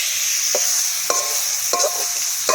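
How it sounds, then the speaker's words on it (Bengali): Chicken masala rice fries outdoors in a village setting, a steady hiss of sizzling oil broken by a few short scraping strokes of a spatula against the pan. "ভালো করে ভাজতে হবে"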